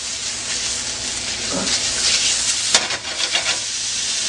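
Philly cheesesteak meat sizzles loudly and steadily in a hot pan as it is moved and spun around quickly, with a few brief scrapes and stirring knocks over the constant frying hiss.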